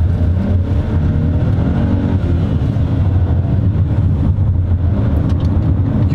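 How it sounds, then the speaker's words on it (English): A Volvo XC40 T3 AWD compact SUV with a three-cylinder engine pulls away at full throttle from launch in comfort mode, a loud, steady, gruff engine drone with a low throbbing note that holds strong throughout. "Definitely hear that it's a three-cylinder engine."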